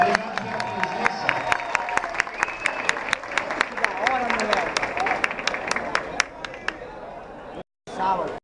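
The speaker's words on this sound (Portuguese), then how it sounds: "Uma salva de palmas para o Nelson." An audience applauds a former coach named Nelson, a dense burst of clapping with a few louder claps, then chatter rising over it before it fades, breaks off briefly and picks up again near the end.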